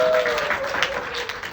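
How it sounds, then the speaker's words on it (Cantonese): Audience applause breaks out after a Cantonese talk, just before a song is performed: a steady wash of clapping over the full clip, with a sustained tone beneath it. "俾掌聲啊！"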